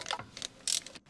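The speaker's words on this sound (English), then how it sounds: "an 1/2 inch extendable ratcheting wrench to slightly loosen the lug nuts" Quick clicking of a half-inch extendable ratcheting wrench with a deep socket loosening lug nuts on a 2013 Jeep Wrangler JK: a short run of faint, close mechanical ticks lasting about a second.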